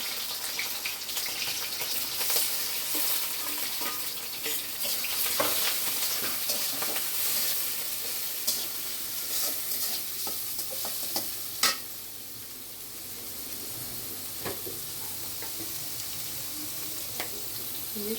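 Shrimp fry in a pan, giving a continuous soft sizzle broken by frequent scraping and clinking as they are stirred, fairly quiet and close, with no voices.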